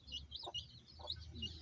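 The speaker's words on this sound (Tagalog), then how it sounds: "Ito naman yung alagang manok." Pet chickens in a backyard give a few soft, low clucks, quiet and somewhat distant over a faint outdoor background of chirping and low rumble.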